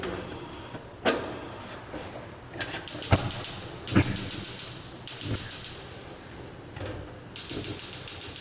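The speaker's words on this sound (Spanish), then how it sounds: "Observamos estufa encendiendo." Four-burner gas stove with spider grates igniting, rapid clusters of sharp ticking sparks in repeated bursts, some followed by a soft whoosh of the flame catching, close and loud.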